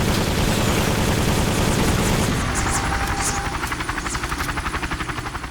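Helicopter boss fight in the 2007 game Soldier of Fortune: Payback, dense loud gunfire and explosions giving way to a rhythmic rotor chop pulsing steadily up close.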